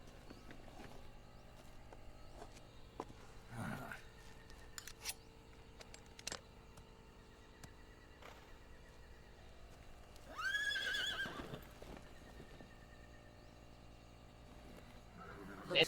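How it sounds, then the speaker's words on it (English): A horse whinnies in the game Metal Gear Solid Delta, a rising neigh over a quiet music bed, with scattered clicks and brief effects. "Horse."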